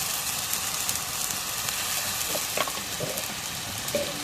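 Chili powder and other spices fry in a pan with a steady close sizzle, a few light clinks and stirring scrapes near the end.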